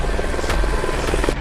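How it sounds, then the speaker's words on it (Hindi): A cartoon-style helicopter sound effect whirs steadily with rapid chopping rotor pulses, loud and close, running unbroken the whole time with no voices. "वाह, मैं हेलीकॉप्टर बन गया।"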